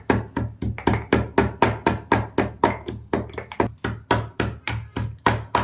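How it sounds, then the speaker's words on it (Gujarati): A pestle pounds mint, coriander, cumin and chilies into a paste in a steady rhythm, about three close, loud thuds each second, with no talk. "ફુંદીલો, ધાણા, જીરું, મરચાં બધું વાટી લેવાનું છે."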